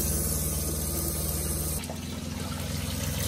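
A teardrop trailer's potable water pump runs steadily with a continuous hum and tonal drone, the pitch dropping slightly partway through as the water flow changes; no voices.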